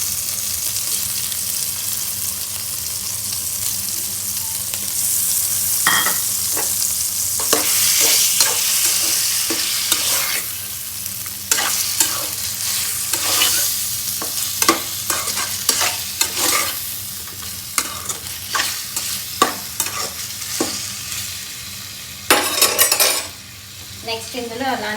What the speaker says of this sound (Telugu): అల్లం వెల్లుల్లి పేస్ట్ బాగా వేగిన తర్వాత ఇందులో చికెన్ వేస్తున్నానండి.